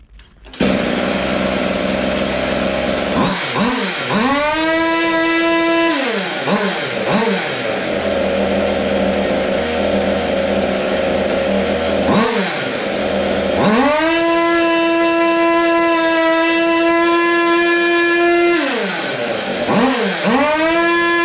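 A water-cooled goped scooter engine with a WT-668 motor revs hard in repeated bursts, whining sharply upward, holding at a high scream, then dropping off, loud and close with no talk.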